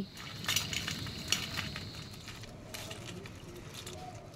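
Crispy okra pakoras fry in hot oil with a steady low sizzle. A few utensil clinks stand out early on, and they fade into a quieter bubbling.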